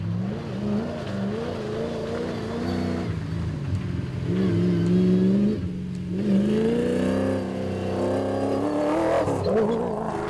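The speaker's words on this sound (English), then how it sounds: "On board with the Toyota now, which is showing some outstanding speed." On board a Castrol Toyota Hilux rally truck at speed in the 2014 Toyota Dealer 450 rally. A loud, close engine roar runs throughout, with revs rising and falling and no voices.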